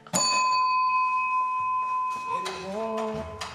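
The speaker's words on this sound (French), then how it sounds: "Un petit coup de cloche." A single bell struck once in a restaurant kitchen serving a breakfast of scrambled eggs with bacon and red beans rings out sharply near the start and then fades in a long, clear, sustained tone, with faint kitchen sounds and muffled voices later.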